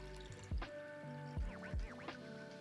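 A dark drink is poured into a glass in a few short splashing bursts with drips and gurgles between, close and fairly quiet, with no speech over it.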